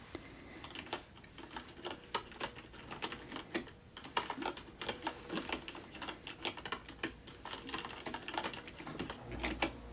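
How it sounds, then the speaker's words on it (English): Typing on a computer keyboard: close, quiet, irregular bursts of clicking keystrokes with short pauses, continuing throughout without speech. "First, I'll type it in."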